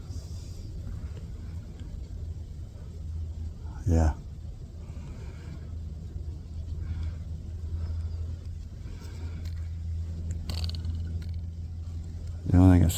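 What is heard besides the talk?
highway traffic in the background near the Mississippi River trail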